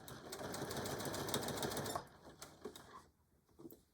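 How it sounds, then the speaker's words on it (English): A sewing machine stitches a denim jeans phone pouch with a fast, dense mechanical whir for about two seconds, close and loud, then stops, leaving a few soft handling clicks and taps. "and have fun and do some sewing"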